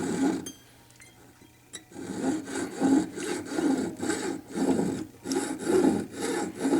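A saw blade scrapes around the inside bottom of a solid precious-metal sphere during carving, a quiet pause giving way to rhythmic back-and-forth rasping strokes, close and steady.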